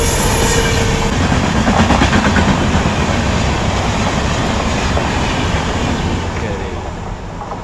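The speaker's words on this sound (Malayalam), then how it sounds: "സംഭവം ഒരു ട്രെയിൻ വരുന്നുണ്ട്," A train runs through a railway station without stopping, heard as a loud, close, continuous rumble and clatter of wheels on rails that eases slightly near the end.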